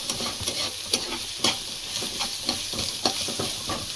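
Ginger garlic paste and onions sauté in an oiled pan, sizzling steadily up close while a spoon scrapes and knocks in regular stirring strokes.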